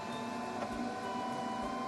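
A printer runs indoors, a quiet steady mechanical whir with faint ticking, alone in a calm room.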